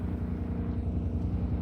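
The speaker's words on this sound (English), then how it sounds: "I can also use it to generate these modular diesel engines, which have a slightly different noise" Modular diesel engines running in a building and town-planning video game, a steady low droning rumble with even pulsing, continuous and fairly loud, with no talk.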